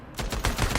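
Gunfire in the Days Gone video game: three or four loud, close shots in quick succession with a broad, booming crack.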